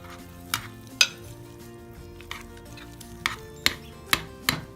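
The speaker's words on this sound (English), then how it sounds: "I'm just going to uncover it and stir it up and recover it and let it continue to cook." Ground venison and vegetables are stirred in a crock pot, with a spoon scraping and tapping against the ceramic pot in several distinct knocks over a soft, continuous bubbling simmer.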